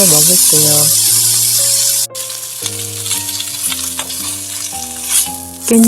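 Samgyeopsal pork belly grilling with a loud, bright sizzle up close, cut briefly partway through, while tonal music plays over it.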